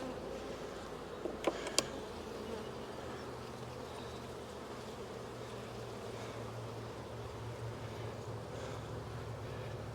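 Honeybees drone steadily around an open hive during a frame inspection, a dense continuous buzz filling the whole stretch, with a few brief clicks early on.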